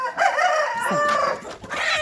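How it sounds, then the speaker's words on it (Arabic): A rooster crows once, close and loud, among a flock of backyard chickens that includes Brahma and Bulgarian hens, with a short hoarse rise and a drawn-out tail. "الديك ده حلو جدا جدا، انا هربيه برضو"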